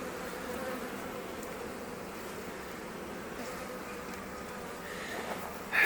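Honeybees hum in a dense, continuous drone close around an opened hive, holding at an even level throughout with a brief louder rustle at the very end.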